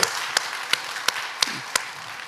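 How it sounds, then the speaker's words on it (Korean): Church congregation clapping in a slow, evenly spaced rhythm, six distinct claps about a third of a second apart over a soft wash of scattered applause, heard from a distance in a large hall. "우리 하나님께 영광과 감사의 박수 드리고 있습니다."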